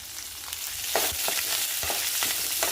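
Split dried red chillies frying in oil for tempering give off a steady close sizzle, broken by repeated short stirring scrapes, moderately quiet with no talking.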